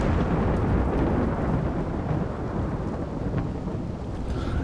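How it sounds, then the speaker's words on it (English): Steady, dense roar of heavy rain and rolling thunder from a thunderstorm in the video game Rimworld, continuous and full throughout with no talking. "I'll wait till the thunderstorm passes."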